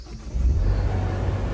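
A Ford Focus ST engine starts up, a deep, steady low rumble rising to a settled idle within about a second, close by and alone.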